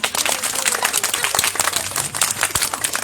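Audience applause at a Republic Day dance event, honoring a boy named Shivam Soni: a sustained, fairly loud patter of many hands clapping continuously for about three seconds, with faint crowd murmur beneath.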